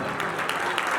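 Church congregation applauding together in praise, a thick continuous wash of clapping hands with occasional louder claps standing out, near and steady.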